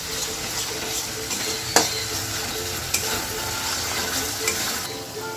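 Ginger, garlic and green chilli paste fries in a pan with a steady close sizzle, broken by a few sharp spoon clinks and scrapes as it is stirred, no speech.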